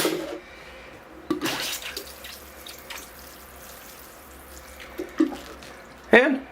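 Water poured from a cup onto soil in a seed tray where a peach pit has just been planted: a soft, steady close trickle with a few brief sharper splashes and knocks near the start and end.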